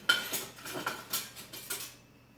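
A knife slices through cooked meatballs in a bowl, giving a series of soft, close clinks and scrapes of metal against dish at an uneven pace, with no voices.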